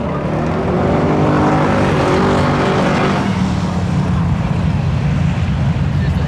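Loud, continuous engine roar from a 1992 Chevy Corvette and a 1991 Mazda Miata staging for a drag race at Seekonk Speedway spectator drags, steady revving with a faint pitch shift midway.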